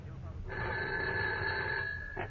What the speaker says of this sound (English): But then my phone rang.